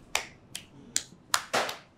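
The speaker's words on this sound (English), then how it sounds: "Clap for her." Five sharp, separate claps in a quiet room with a small group, spaced unevenly, with the last breaking into a short flurry.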